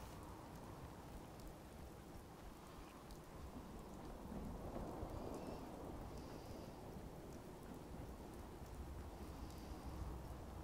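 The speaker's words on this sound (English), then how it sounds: "It's raining." Steady rain falls in the Far Harbor setting of the video game Fallout 4, a continuous hiss with a low thunder rumble swelling midway. The storm sounds fairly quiet and distant, with no voices.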